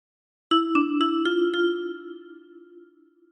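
A short phrase of Bella Ciao on a 10-key kalimba: five quick thumb-plucked metallic notes in steady rhythm, ringing and overlapping before fading out, played alone and close.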